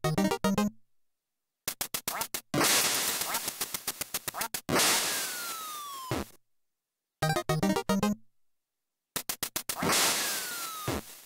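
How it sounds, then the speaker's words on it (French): Ducks quack in bursts in the Duck Hunt video game, with chiptune-style beeps, rapid repeated electronic tones and descending whistling falls between short silences, loud and alone. "il y a la version où on peut tirer sur des canards, comme là"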